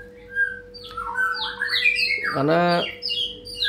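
A white-rumped shama, or murai batu, giving sharp chirps and a rapid rising squawk-like call, fairly close, with a faint steady hum beneath and a brief spoken word.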